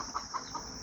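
Farm chickens give three quick, soft clucks in close succession over a steady background hiss.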